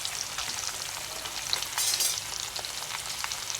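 Cassava chips fry in hot oil in a pan while being stirred, giving a dense, steady crackling sizzle with brief louder bursts, close and without talk.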